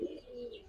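Colouring and giribaz pigeons give a single short, soft coo, close by and without talk.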